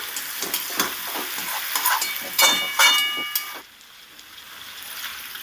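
A spoon stirring a vegetable curry with drumsticks in a pan after a spoonful of sugar goes in, giving a close, steady scraping and sizzling with bright clinks in the first few seconds before it settles to a quieter simmer.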